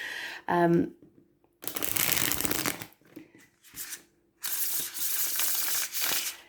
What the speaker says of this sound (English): I'm not a good riffle shuffler, as you can plainly see